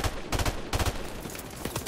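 Gunfire in a Call of Duty video game, with rapid automatic bursts crackling close and loud in quick succession over a dense battle din.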